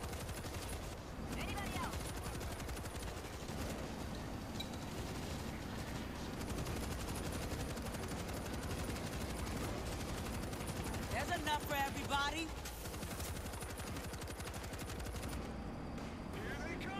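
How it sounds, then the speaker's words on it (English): Sustained heavy automatic fire from a .50 cal turret machine gun in the zombie shooter World War Z, a dense continuous rattle of rapid shots mixed with game chaos and a voice talking over it throughout. ".50 cal turret locked and loaded."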